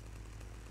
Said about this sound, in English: I'm gonna kill this guy with a chainsaw